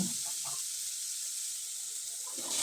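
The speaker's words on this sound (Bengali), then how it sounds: "এবার আমি কয়েকটা মরিচ কুচি করে নিয়েছি সেটা দিয়ে দিলাম খুব ভালোভাবে নেড়ে চেড়ে" Chopped green chilies stirred in a hot pan, giving a bright, even sizzling hiss throughout with faint stirring scrapes at the start and end.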